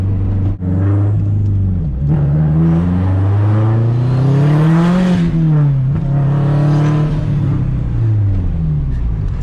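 A 2004 Subaru WRX STI accelerates hard through its gears, the engine rising in pitch, dropping at each shift and climbing again, loud and close from inside the cabin.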